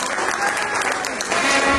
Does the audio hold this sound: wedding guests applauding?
yes